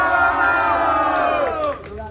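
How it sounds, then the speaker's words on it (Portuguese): A crowd at a rap battle at CJ Fest in Foz do Iguaçu, Brazil, cheers and shouts in a loud, dense roar that fades slightly near the end. "Barulho pras rimas do Mano. JD."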